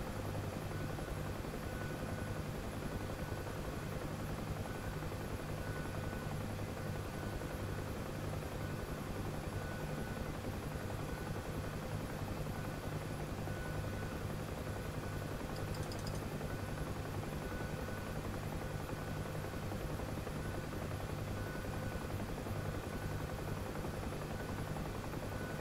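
A helicopter flies in the DCS World combat flight simulator, its rotor and turbine drone holding loud and steady for the whole stretch with a constant thrumming beat and no talk.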